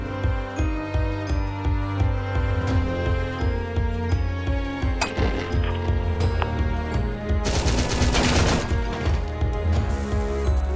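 Submachine gun fire in Nom Nom Apocalypse, rapid rhythmic shots rattling over a looping music track, building into a dense, noisy burst of shooting and impacts toward the end.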